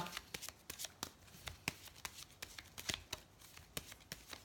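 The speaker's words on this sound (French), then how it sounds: "on va regarder avec le petit Lenormand pour voir un petit peu ce qu'il nous dit. Donc, je vais tirer 9 cartes." A deck of Lenormand cards being shuffled by hand, a rapid run of crisp riffling flicks and soft slaps close up, fairly quiet and without talk.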